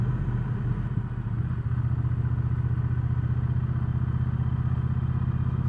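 A 2019 Triumph Speedmaster motorcycle engine drones steadily and loud up close, a constant low-pitched roar with no talk over it.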